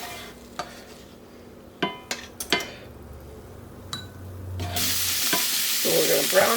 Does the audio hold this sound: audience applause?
no